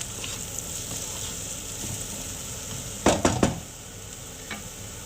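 Diced ridge gourd and potatoes sizzle steadily in a frying pan, then a spoon scrapes and stirs them in three quick, clattering strokes, with one more faint knock afterward.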